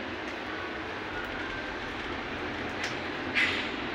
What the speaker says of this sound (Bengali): ওই যে ট্রেন যাবে দেখেন।